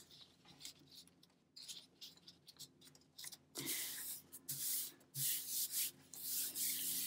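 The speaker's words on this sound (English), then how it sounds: "I'm gonna rub for a couple of seconds." Glued paper for a pinwheel craft is rubbed down by hand, making close scratchy rubbing strokes that start light and broken, then grow longer and louder in steady passes.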